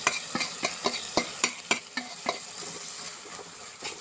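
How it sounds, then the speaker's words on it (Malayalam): A spoon stirs chilli, coriander and turmeric powder frying in oil with curry leaves and green chillies for a sardine curry. Brisk, close, rhythmic scrapes and clanks come every third of a second over a soft, steady sizzle, with no talking. "എന്നിട്ട് പച്ചമണം മാറുന്ന വരെ ഒന്ന് ഇളക്കുക."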